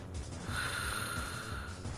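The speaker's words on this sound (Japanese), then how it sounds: "ずっといびきうるさいと思ったら立ったまま目開けて寝てんじゃん。" A character in a Pokemon-themed animated sketch snores loudly while sleeping standing up, a steady rasping breath through the whole stretch with no talking.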